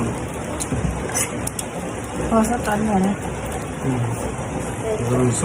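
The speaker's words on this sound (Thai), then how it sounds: "วันนีบรรยากาศฝนตกสารคาม" Rain falls steadily in Maha Sarakham, Thailand, a broad, even hiss that continues under close conversational voices.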